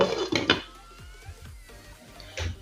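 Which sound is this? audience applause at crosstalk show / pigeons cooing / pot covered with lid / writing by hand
pot covered with lid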